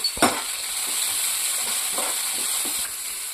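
Green peas fry in a pan, a steady hissing sizzle opening with a sharp clatter, followed by a few soft stirring scrapes, close and with no one talking.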